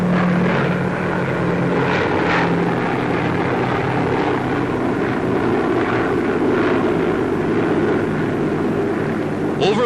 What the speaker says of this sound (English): United States bombers take off from bases in the Arctic to blast the remaining Japanese on Kiska